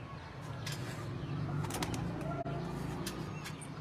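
Young pigeons coo softly in a group, with low, faint repeated coos and light rustling.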